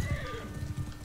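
Horse hooves clip-clop in a Bannerlord medieval battle, a steady trotting rhythm close by, mixed with a brief whinny and battle ambience, with no speech over it.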